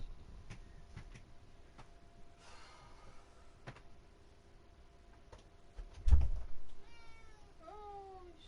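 A cat meows and cries loudly and insistently to be let in, several calls nearby, with a louder thump partway through, in a hot indoor setting.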